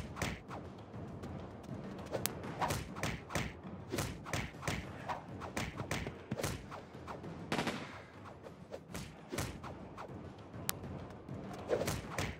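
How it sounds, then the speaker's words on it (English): Weapons fire repeatedly in the side-scrolling action game Dex, a long string of sharp, punchy shots and thuds in irregular quick bursts, fairly close and dominant across the whole stretch. "keep shooting. Keep shooting."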